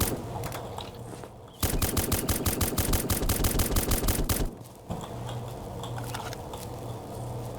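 Rapid machine-gun fire in the Roblox game Black Hawk Rescue Mission 5, one loud sustained burst of evenly spaced shots lasting about three seconds, close and prominent over background game noise.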